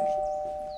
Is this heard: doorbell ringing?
yes